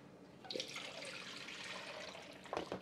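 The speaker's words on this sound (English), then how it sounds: "So that liquid, I'm going to put right here in this fat separator." Brisket cooking juices poured into a fat separator, a steady watery splash and trickle of liquid that runs continuously, close and fairly quiet, with a brief louder slosh at the start and near the end.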